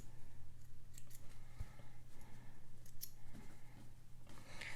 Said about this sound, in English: Let's trim up our threads.